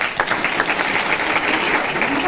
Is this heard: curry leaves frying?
no